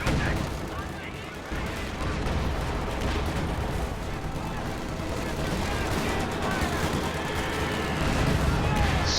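Continuous battle noise from a WWII strategy game, with tank and artillery fire as a Panzer IV advances on Shermans; dense, steady gunfire and booms fill the whole stretch with a game announcer talking over it.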